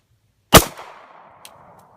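A single sharp gunshot from a .40 S&W handgun firing a Winchester PDX-1 180-grain round, loud and close, with a short fading tail and a faint metallic tick shortly after.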